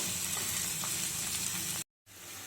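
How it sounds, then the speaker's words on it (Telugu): Onions and green chillies sizzle steadily in a generous amount of hot oil for a tamarind curry, a dense close crackle that cuts out briefly near the end before resuming. "ఇప్పుడు మనం ఉల్లిపాయలు పచ్చిమిరపకాయలు వేసుకుందాం"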